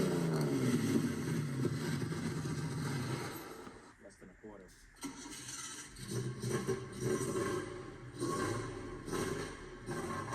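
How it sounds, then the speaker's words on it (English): A naturally aspirated inline-six car engine roars steadily, dips into a brief lull around the middle, then revs up again with a throaty, rising note close by. "No turbo, just a natural aspirated engine. Straight up, inline 6."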